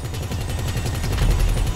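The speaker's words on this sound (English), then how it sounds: "Now this is a pretty awesome turret minigun." A turret-mounted minigun on a turreted limo fires in GTA Online, a loud, unbroken stream of very rapid shots with a heavy low rumble, lasting the whole moment with no talk.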